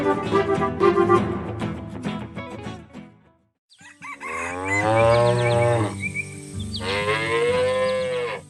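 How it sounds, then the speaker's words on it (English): Cows moo near a barn on a farm in long, loud, drawn-out calls, with a rooster crowing and other farm animal sounds mixed in. "our gentle cow friends are enjoying a peaceful morning near the barn."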